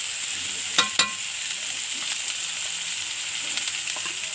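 Chilli, cumin and garlic paste sautés in a pan with a steady hiss and sizzle and a few sharp stirring clicks near the start, close and fairly loud, with nobody talking.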